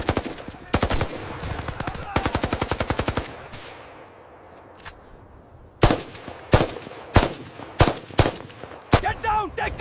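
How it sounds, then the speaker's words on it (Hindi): Machine gun fire in rapid, loud bursts, followed by a pause and then scattered single gunshots echoing close by, with shouted voices near the end. "गोली फायर, कीप फायरिंग।"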